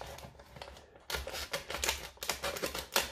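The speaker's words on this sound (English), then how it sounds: "So you cut all the way across, around the whole thing." A sharp blade cuts through a thick plastic Gatorade bottle, giving a run of crisp, close crackling and scraping bursts in two main stretches with a short pause between, and no talking.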